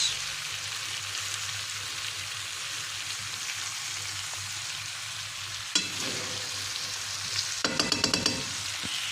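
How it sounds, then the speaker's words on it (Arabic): Liver and onions fry in a pan with a steady, soft sizzle, broken by a few brief scraping and clattering stirring strokes near the end. "وبقلب بالراحه علشان الكبده معايا ما تتهريش"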